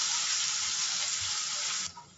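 Onions frying in a pan as the base for a mutton gravy, a steady bright hiss of sizzling oil that runs without a break and then drops abruptly to a quieter crackle near the end.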